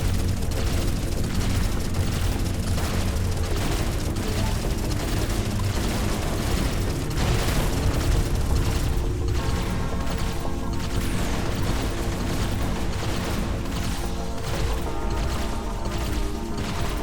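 Missile explosions in the space combat video game Everspace 2, a loud continuous barrage of booms, crashes and blasts layered over a heavy rumbling bed, with no talk.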